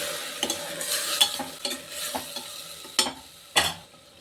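Green lima beans stirred into sautéed onions in a pan, giving a run of scraping, clattering stir strokes over a soft, steady sizzle, close by with no voices.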